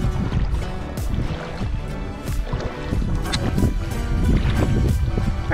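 Wooden outrigger boat in Pangasinan bobbing at the shore as passengers climb aboard for island hopping at Tondol, Anda; steady wind and water wash with knocks and shuffling throughout, faint voices in the background.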